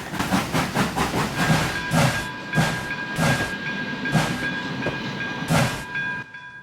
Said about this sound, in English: he had to let a priority freight train pass